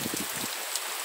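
Rain falls on the covered porch of a rural house in the Sertão of Ceará, Brazil, a close, steady broadband hiss with a few low thumps of drops early on and no speech.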